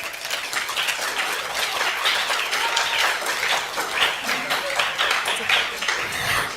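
Audience applause at an Islamic study gathering during Ramadan in East Java, with sustained, even clapping from a crowd that carries on for several seconds.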